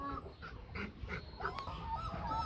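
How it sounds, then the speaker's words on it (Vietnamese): Rottweiler puppies whimper and whine at feeding time, begging for food with a run of short, high, repeated cries close by. "Đây là chó con của Loki với lại Faye. Đến giờ ăn này đang thì ra xin ăn."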